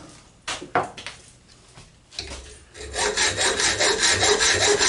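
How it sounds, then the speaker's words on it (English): A hand hacksaw cuts through brass and copper scrap, beginning with a few scattered scrapes and knocks and then settling into a fast, steady back-and-forth rasping rhythm, close and fairly loud. "The biggest reason why I use this hacksaw, it's just not quite as noisy as a jigsaw"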